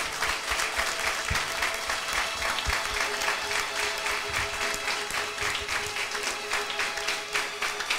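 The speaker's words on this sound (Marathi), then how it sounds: "एकदा जोरदार टाळ्यांचं अर्पण आपल्या देवाला सादर करूया" A church congregation at a Sunday sermon gives loud, sustained applause to God, a dense continuous roar of many hands clapping from start to end with no talk over it.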